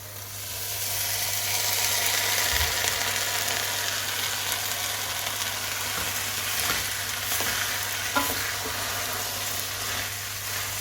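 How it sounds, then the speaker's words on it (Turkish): Green lentils dry-roasted without water in a pan, a steady hissing sizzle with scraping stirs and occasional light knocks, constant and close, with no talking. "Bunları 5-10 dakika güzelce kavuruyoruz."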